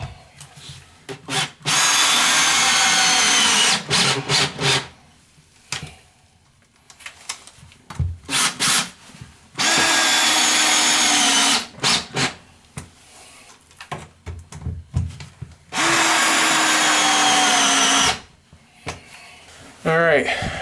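A cordless drill drives 2-inch brass screws through a brass toilet flange into the subfloor, whirring in about three loud sustained bursts with short pulses and pauses between them, with someone talking in the gaps.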